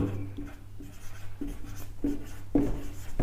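A pen or pencil writes a Hindi word by hand, with short scratchy strokes coming in several separate bursts and quiet pauses between them.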